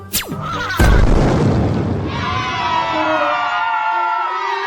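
A cartoon magic fire blast fired into the sky, starting with a rising whoosh that ends in a loud booming burst, then sparkling crackles and a bright shimmering tail fading over several seconds.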